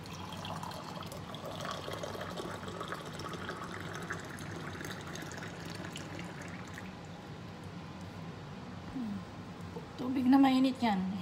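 Hot water poured for a simple breakfast drink, a steady soft splashing pour running through most of the stretch, then louder handling noises near the end.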